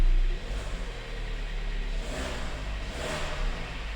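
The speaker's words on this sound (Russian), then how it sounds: "при наборе газа и при отпускании газа вот как раз и происходит звон" A Hyundai ix35 with a G4KD engine revving and easing off, its steady mid-pitched engine drone rising and falling with a faint metallic ringing knock mixed in, close and continuous with no talk.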